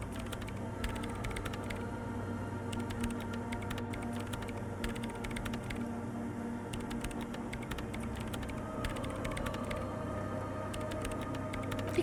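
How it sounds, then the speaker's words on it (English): Rapid, steady keyboard typing in the video game Disco Elysium, a dense patter of clicking keys entering commands into a machine, close and moderately quiet over a low mechanical hum. "her hands typing hundreds of commands into the machine"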